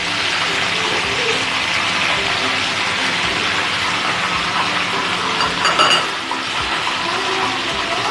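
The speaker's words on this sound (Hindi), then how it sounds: "देखें फिश फ्राई हो रही है।" Fish sizzles and crackles steadily in a hot frying pan, a continuous close hiss with small pops throughout.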